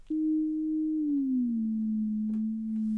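Synthesizer line with a high glide setting, one steady tone sliding slowly and smoothly down to the next pitch, clean and sustained for three seconds, no voices.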